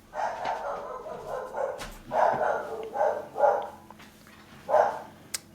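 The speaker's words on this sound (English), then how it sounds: "So that's a dog." Dog barks in a series of roughly five short, mid-loud bursts with pauses between, over light background noise and no talk.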